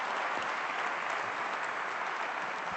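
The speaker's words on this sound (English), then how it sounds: "Nice round of applause." A conference-hall audience at a business forum claps steadily, a dense and even wash of applause that holds at the same level throughout.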